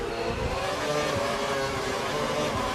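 Several Formula 1 race cars roar together in the F1 2012 video game during a career-mode race in Australia, a continuous dense engine drone with no pauses and no voices.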